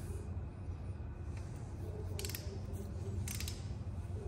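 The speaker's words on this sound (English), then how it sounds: "Now we start torquing here." A torque wrench ratchets while tightening bolts on a rebuilt Honda 400EX engine with a 400cc big bore kit, giving quiet, close mechanical clicks and creaks in two short bursts, with no talking.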